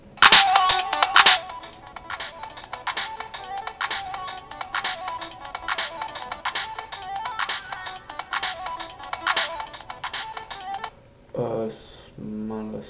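A bright electronic melody layered over a bass line plays from a music production program, repeating loudly for about eleven seconds before cutting off, followed by a brief voice.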